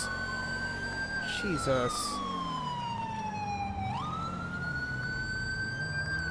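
A police car siren wails in GTA V with the LSPDFR mod, a loud steady wail sweeping slowly down and back up under a brief short yelp, with a voice speaking briefly.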